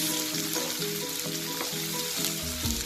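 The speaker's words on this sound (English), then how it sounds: "We'll put it all together and saute for 5 to 7 minutes." Bell peppers and capsicum sauteing in a pan give a steady close sizzle with soft scraping and stirring movements, and no voices are heard.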